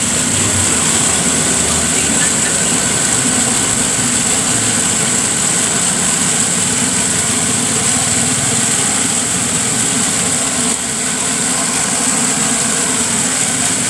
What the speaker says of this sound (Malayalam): മോട്ടോർ ഓണായി.